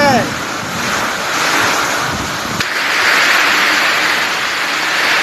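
A rainstorm with strong gusting wind roars loud and close, a continuous broad rushing hiss with buffeting wind noise on the microphone and no pauses.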